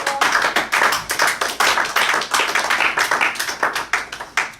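A church congregation claps along during a French-language Sunday worship service, producing steady, rhythmic, closely packed handclaps that continue without pause and sound near and fairly loud.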